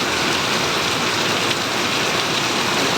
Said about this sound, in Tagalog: Matagal itong ulan na to sa klase.